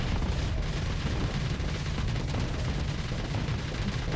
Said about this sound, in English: Re-engage and gun them down.